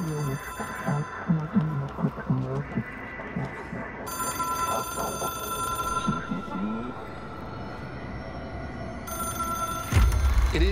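A telephone bell rings in the video game Control, inside a hotline chamber, a bright electric trill repeating in bursts over an ambient hum, fairly clear, ending with a louder thud.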